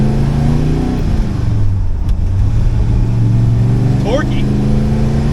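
A low-geared car's engine pulls steadily after a gear shift, a close, continuous rising hum with someone talking over it inside the cabin.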